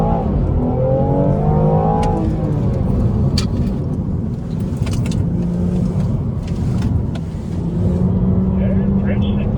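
A BMW M240i accelerates around an autocross track at a performance driving school, its engine droning and rising in pitch as it revs up, with a voice talking over the steady car noise.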